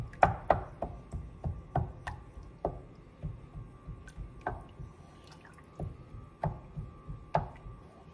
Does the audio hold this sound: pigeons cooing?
no